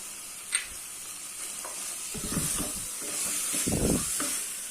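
Chicken sautéing with coriander stems in a pan while cooking chicken rasam, a steady close sizzle with stirring scrapes and a louder burst of frying near the end.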